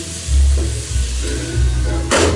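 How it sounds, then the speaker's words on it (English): Onions fry in a pan, giving a steady close sizzle with soft stirring scrapes and a brief louder hiss near the end. "So when I have fried these onions"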